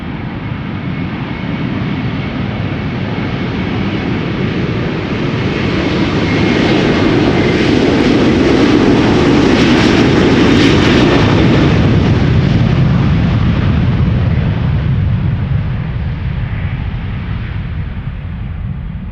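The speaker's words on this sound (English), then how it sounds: "Delta Airlines flight 73, an Airbus A330, 8 years old" Delta Air Lines Airbus A330 taking off from Schiphol Airport, a loud broad jet-engine roar that builds, peaks and slowly fades as it climbs away, with no voices.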